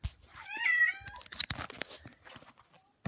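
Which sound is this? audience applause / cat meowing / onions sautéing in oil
cat meowing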